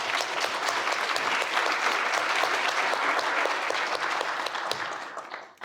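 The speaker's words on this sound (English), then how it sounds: "So if we could give her a round of applause." An audience at a summer forum's opening and keynote breaks into sustained applause, a thick, even patter of many hands that carries on for several seconds before tapering off at the end, with no talk over it.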